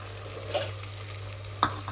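Onion and garlic paste frying in a pan is stirred briefly, a soft sizzle with a couple of sharp scrapes and taps of the spoon against the metal.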